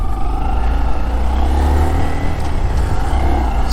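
A 2022 Honda Monkey motorcycle engine pulls steadily through the gears on an open road, its close, continuous low rumble rising in pitch with no talk.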